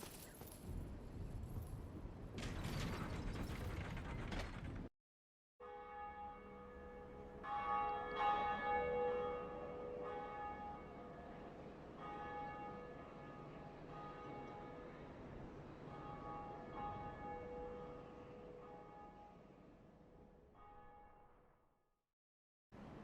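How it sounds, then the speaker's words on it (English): The Bell of Awakening in Dark Souls 2 rings with long, rich metallic tones that sustain and slowly decay, preceded by a noisy burst and a short gap of silence. "when the bells of awakening ring and you are online, you will be able to hear those bells from other worlds"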